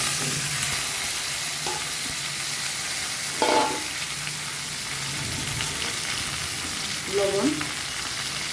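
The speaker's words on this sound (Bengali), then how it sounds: "তেলে ফোড়ন দিয়ে দিছি শুকনা মরিচ, আর দেব সরিষা।" Dry red chillies and mustard seeds sizzle in hot oil while a mango chutney is being made. A steady close frying hiss runs throughout, with a few brief stirring knocks and small pops.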